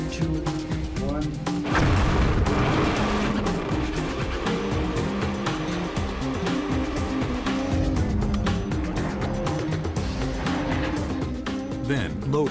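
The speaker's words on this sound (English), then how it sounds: "Getting to the magnetite ore starts with a bang." A mine blast loosens magnetite ore, a deep heavy rumbling roar rising to a peak and rolling on with debris, loud and sustained.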